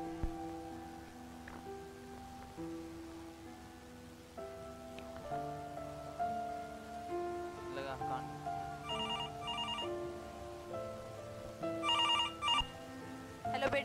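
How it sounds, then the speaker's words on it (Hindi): A telephone rings in two short bursts of trilling bells as a call is placed, heard over steady background music with voices. "मैं जरा अपने बेटे को फोन लगाती हूँ।"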